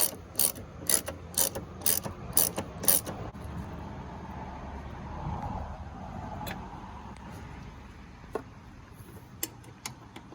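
Ratchet loosening motor mount bolts on a 2005 Nissan Altima 2.5L, a quick series of sharp clicks up close over the first few seconds, then a quieter stretch with a few scattered ticks near the end.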